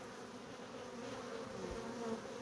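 A steady, soft buzzing hum of many honeybees at a hive, continuous and even throughout, with no voices.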